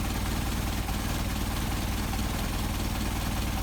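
An engine idling on Solex 44PHH carburetors, a steady, even, close mechanical drone with a dense broadband rumble that holds constant throughout.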